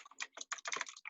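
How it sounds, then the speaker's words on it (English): Rapid typing on a computer keyboard, a close, continuous run of clicky keystrokes in irregular bursts with no voices. "Someone is again typing, so please mute yourself."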